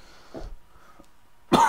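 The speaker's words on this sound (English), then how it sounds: "That doesn't sound like an asthma cough." A single short cough sounds close by, followed after a pause by a louder, harsh second cough.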